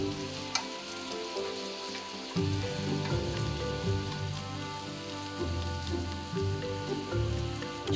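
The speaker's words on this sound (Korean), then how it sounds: "한쪽에 버터를 넣고 녹이면서 버섯에 골고루 묻혀준다." King oyster mushrooms fry in a pan as butter melts around them, giving a dense crackling sizzle like rain on a surface that swells louder partway through and keeps going without speech.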